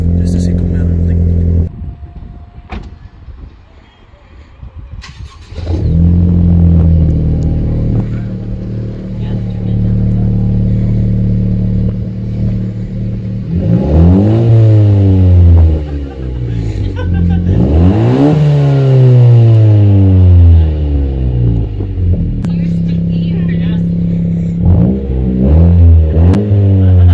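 A 10th-gen Honda Civic Si with a newly installed aftermarket exhaust revs up repeatedly, loud and close, rising and falling in several sharp bursts between idle stretches, with people talking nearby.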